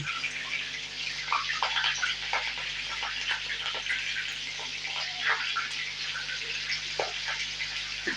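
Green chillies, slit down the middle, frying in hot oil over a high flame, giving a steady, close, broadband sizzle with scattered crackles and pops throughout, no talking.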